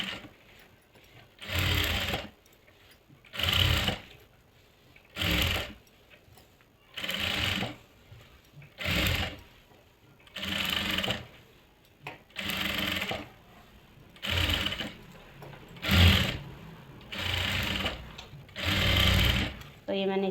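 A sewing machine stitches a salwar in short bursts, about ten evenly spaced runs of rapid whirring separated by brief pauses, close and clear, with a voice speaking softly in the gaps.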